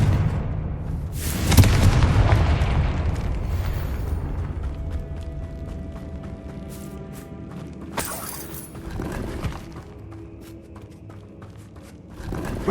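A Confringo fire spell goes off in Hogwarts Legacy as a sudden deep blast with a burst of debris, fading into rumbling game ambience, followed later by a second sharp impact.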